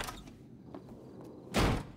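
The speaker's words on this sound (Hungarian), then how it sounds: "Ebben a játékban szeretik az ajtót csapdosni." Car door slam in the video game Grand Theft Auto V: a single loud, close thud near the end after a few faint clicks.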